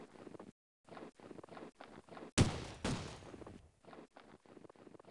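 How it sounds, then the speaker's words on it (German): A single loud gunshot in the video game Counter-Strike bursts out amid choppy background sounds, with a second rumbling blast right after it. "wo kam der Schuss her?"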